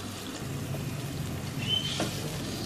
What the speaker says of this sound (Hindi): जैसे ही पानी में उबाल आए इसमें ये भीगे हुए चावल शामिल कर देंगे।